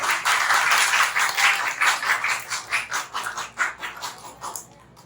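A church congregation claps together, a dense burst of applause that starts loud and gradually thins and fades out over a few seconds.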